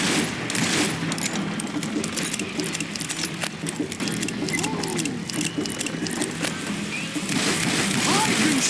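Rapid gunfire rattles in the Western shooter game Call of Juarez: Gunslinger, with dense crackling shots and clattering bursts through the whole stretch and voices mixed in underneath.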